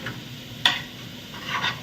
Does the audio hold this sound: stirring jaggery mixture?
yes